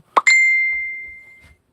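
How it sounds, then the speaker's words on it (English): A phone notification pings once, a bright tonal chime with a sharp start that rings out and fades over about a second, loud and clear against near silence. "phone going off."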